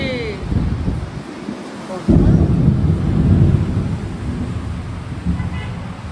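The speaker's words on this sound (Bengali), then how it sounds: "মেঘ ডাকছে প্রচন্ড" Deep thunder rumbles loudly through a dark, stormy morning sky, with a heavier roll swelling in after a couple of seconds, backed by wind and rain noise.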